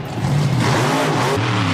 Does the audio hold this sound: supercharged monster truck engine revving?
yes